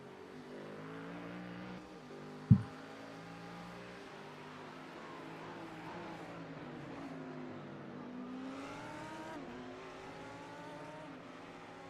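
Race cars at Le Mans roar past in multiclass racing, engine notes climbing and falling as they pass, with one sharp thump early on and a steady, moderately distant drone throughout.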